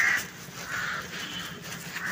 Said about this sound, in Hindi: सुबह सुबह कौओं की आवाज़ें आ रही हैं,